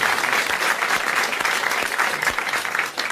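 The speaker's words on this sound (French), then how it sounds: "vous applaudissez Monsieur Marandon de Grande-Sainte." Studio audience applauding on a 1985 French television game show, a loud, dense and continuous wash of clapping from a crowd, steady from start to finish.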